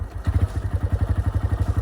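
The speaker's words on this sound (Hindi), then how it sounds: "मैं अभी भी दिखा देता हूँ कि 7500 किलोमीटर चलने के बाद बाइक की साउंड कैसी होती है" A TVS Raider motorcycle engine with 7500 km on it runs close by in a steady, even thumping idle, its rhythmic low pulses clear with no talk over them.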